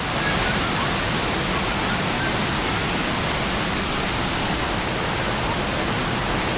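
A jungle waterfall pours in a dense, unbroken roar of falling water, loud and close, holding steady without pause throughout.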